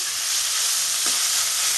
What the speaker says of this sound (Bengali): এখন একটু ভাজবো আমি